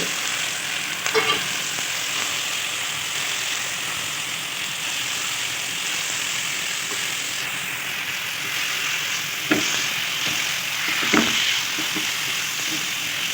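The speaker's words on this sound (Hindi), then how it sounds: "कीमे को हम अच्छे से फ्राई करेंगे, तकरीबन 5 से 6 मिनट इसको फ्राई करेंगे।" Minced meat (keema) frying with onions in a pan gives a steady, soft sizzle, with a few sharp scrapes and clinks of a spoon stirring at intervals.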